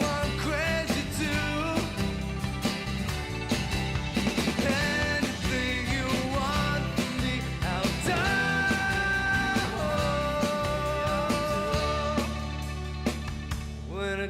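A song playing as full-band rock with a sung melody, steady and loud throughout.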